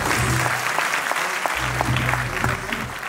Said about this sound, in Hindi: आपकी जोरदार तालियों से स्वागत करेंगे